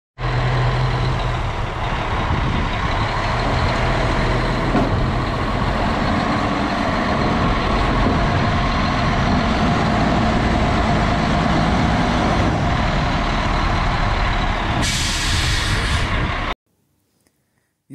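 A concrete truck pulls up on a job site to pour into wheelbarrows, a loud, steady diesel rumble running continuously before cutting off abruptly near the end.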